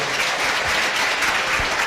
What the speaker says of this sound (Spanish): Un aplauso para esta hermana.